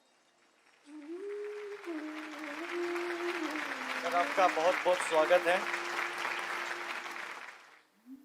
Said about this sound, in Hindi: सभी लोगों के लिए एक बार जोरदार तालियां हो जाए।